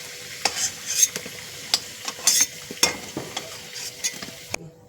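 Fried potato pieces are lifted out of hot oil, giving a quiet continuous sizzle punctuated by repeated metallic clinks and scrapes of a spatula against the pan.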